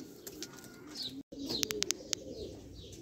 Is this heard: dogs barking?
no